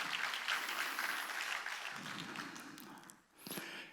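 Clapping from a church congregation at a Wednesday worship service: dense, continuous applause across most of the stretch, thinning briefly near the end before a short burst resumes, with no talk over it.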